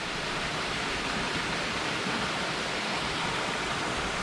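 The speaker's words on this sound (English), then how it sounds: "Waterfall view." A waterfall roars steadily in the Adirondack High Peaks backcountry, a dense continuous rush of falling water close by and filling the scene without pause.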